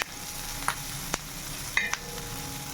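Onions with oil and salt fry on a tava for onion chutney, a soft steady sizzle broken by a few sharp clicks of a spatula against the pan.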